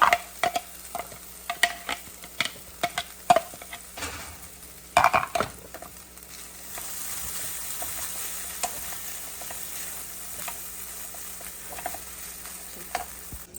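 Spinach and corn quesadilla filling sizzles and fries in a pan while a utensil scrapes and clatters against it in irregular sharp taps, followed by a steady soft frying hiss, with no talking.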